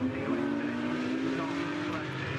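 Porsche Cayman race cars at Brands Hatch, engines droning loudly as a close pack passes, steady and sustained with a commentator talking over it.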